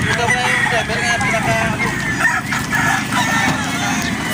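Battle stag roosters at a Batangas game farm crow and cluck in overlapping calls, loud and close, with a voice mixed in among the birds.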